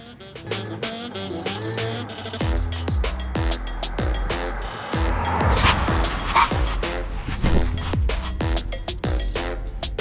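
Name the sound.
car hard braking test after Brembo brake install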